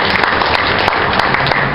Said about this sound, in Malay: Satu tepukan untuk mereka.